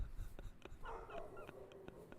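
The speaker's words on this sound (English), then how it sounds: "Neighbor's dog's raising hell." A neighbor's dog heard faintly from a distance, giving scattered yips and short barks at an irregular pace over a low background rumble.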